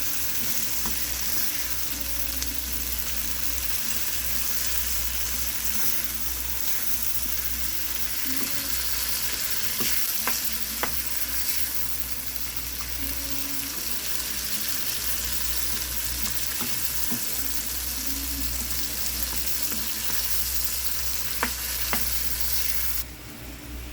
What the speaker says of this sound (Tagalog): natapos na natin ang ating kamatis, sibuyas, bawang gisahin